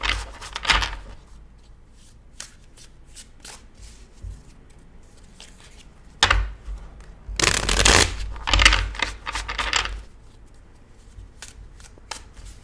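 A tarot deck is shuffled by hand in a quiet room, with crisp riffling bursts separated by pauses. The longest, loudest flurry comes about two-thirds of the way through, and softer taps and card slides fill the gaps.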